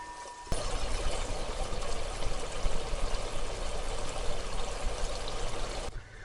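Water is poured into dry masala frying in oil for a spinach tadka dal, producing a sudden, steady, close hiss and pour that lasts about five seconds and then cuts off.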